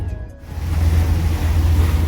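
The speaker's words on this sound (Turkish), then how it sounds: "Evet vapura biniyoruz." A ferry moving across the water toward Eminönü in Istanbul gives off a steady low engine rumble with a constant wash of waves and wind noise. The sound builds after a quieter start.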